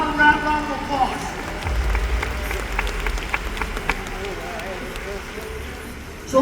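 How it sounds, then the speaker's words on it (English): Conference audience at a success summit giving a round of applause, a spread of clapping from a large crowd heard under a speaker's voice with rumbling room noise, moderately loud and steady. "give them a round of applause"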